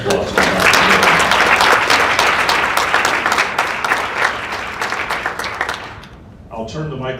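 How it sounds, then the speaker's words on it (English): Applause at an annual women's reception: a loud, dense crowd clapping for an honoree that stays full for about six seconds before tapering off, with a voice starting to speak as it fades. "how about a round of applause for Dr. J?"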